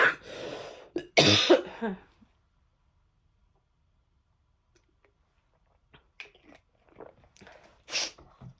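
Two harsh coughing fits close together, then quiet, followed by a few faint rustles and a weaker cough-like burst near the end.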